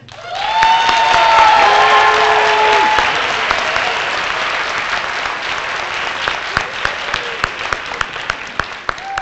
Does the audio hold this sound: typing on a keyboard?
no